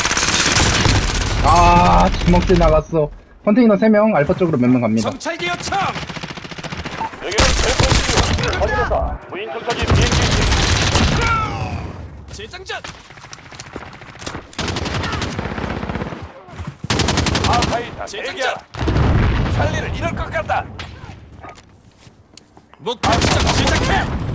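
Uzi submachine gun fire at a shooting range in Call of Duty: Modern Warfare, loud rapid automatic bursts repeating throughout with short gaps, mixed with other game effects.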